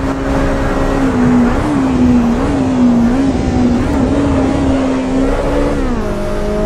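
A car engine in the Assetto Corsa Evo racing game holds a steady high-pitched drone at top speed, loud and continuous, with a slight rise and wobble in pitch and no talking.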